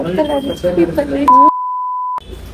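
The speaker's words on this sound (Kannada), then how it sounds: "ಬೀಪ್ ಹಾಕ್ತೀನಿ" A steady electronic beep tone covers speech for under a second, loud and abrupt, with talking heard before and after it.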